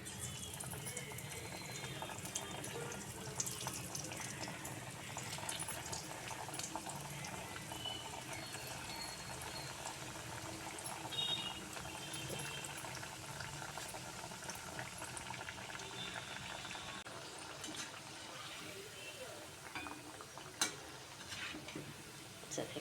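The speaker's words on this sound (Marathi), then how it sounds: "इकडे तेल गरम करत ठेवलं थोडंच तेल घातलेलं आहे आणि त्याच्यामध्ये आपण डीप फ्राय करून घेऊया" Bottle gourd vadis deep fry in a shallow amount of hot oil, giving a steady, even sizzle and bubbling hiss that runs unbroken at moderate volume from start to finish.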